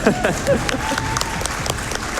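An audience at Summer Games Done Quick 2022 applauds a Solar Ash speedrun with steady clapping and a few cheers. The applause stays even and moderately loud throughout its short span.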